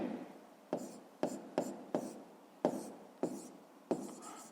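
Pen strokes scratch across a page in a maths exercise book, a series of short, close, quiet bursts about every half second, with no talking.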